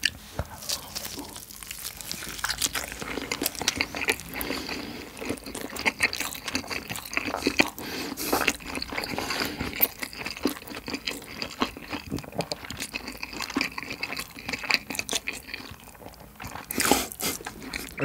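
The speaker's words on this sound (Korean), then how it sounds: "얘는 와사비랑 한번 같이 먹어볼게요" Grilled Jamaican-style chicken leg eaten with wasabi, heard up close as repeated soft bites and wet chewing with small crunchy, sticky mouth noises over a quiet background.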